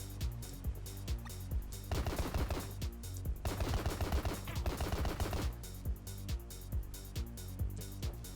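Repeated enemy gunfire in the video game Top Dog, steady clusters of shots with a denser rapid burst in the middle, moderately loud and continuous alone without talk.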